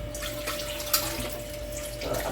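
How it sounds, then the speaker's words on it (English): A Saladmaster saucepan being rinsed out with plain running tap water and no soap, a steady close stream splashing into the pan with one brief louder splash near the middle. "So I'm going to wash this out with water."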